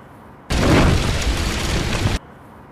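A loud explosion bursts in suddenly and roars on for nearly two seconds at steady strength before cutting off abruptly, leaving a quiet background on either side.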